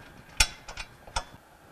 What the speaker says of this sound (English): Just get the nut and bolt started, and then you can get your wrenches on it.